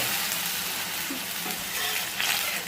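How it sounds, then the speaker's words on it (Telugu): A few drops of water hit a hot dosa pan and sizzle loudly and steadily up close, with a continuous hissing crackle throughout. "ప్రతి దోశకి ముందు ఒక రెండు డ్రాప్స్ వాటరు వేయండి"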